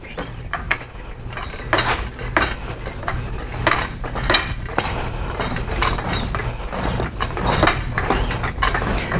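A Redline 2600 lb tractor wheel and tire dolly lift being raised by its hand pump handle gives steady, repeated mechanical ratcheting clicks and metallic clanks, close and fairly loud, with no voices.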